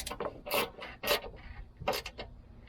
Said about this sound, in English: Tighten the remaining bolts on top until snug.